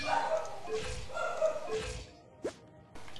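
A neighbours' dog barks a few times in the distance, faint, short yelps with pauses between them and a quiet background.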